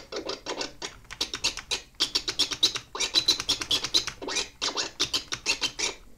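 Rapid chirp scratches on a prototype audio cassette scratching device, using a sample taken off the radio: short, bright, choppy bursts repeating in quick rhythmic runs, fairly quiet and alone.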